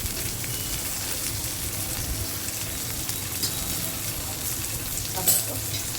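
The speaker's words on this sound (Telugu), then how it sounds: "కొంచెం వేగనిద్దాము. మునిగాకు వేసినాం కాబట్టి వేగాలండి." Moringa leaves sizzle and fry in a pan while being stirred, a steady close hiss with light scraping running throughout, and a brief sharper clatter near the end.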